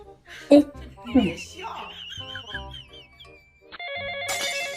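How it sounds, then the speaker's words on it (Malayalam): A phone ringtone starts near the end and rings loudly and steadily after a stretch of chuckling and voices in a room. "ആരപ്പോ വിളിച്ചണ് അതോ പാത്തുവാണല്ലോ"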